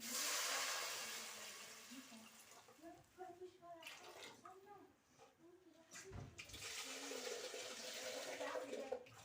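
Water poured into a pot of deeply browned fried onions, a broad rushing hiss and gush that starts loud and tapers to bubbling, with someone talking over it throughout.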